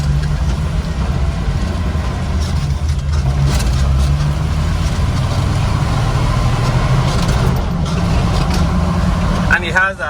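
A Mahindra Roxor turbo diesel pulls away in second gear, its low engine rumble steady and loud throughout as people talk over it.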